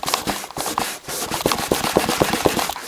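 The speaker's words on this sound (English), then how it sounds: "just give it a good scrub." Stains are scrubbed off a wooden Kriesler radio cabinet with rapid, rhythmic rubbing strokes, close and fairly loud, in quick repeated bursts with a brief pause near the start.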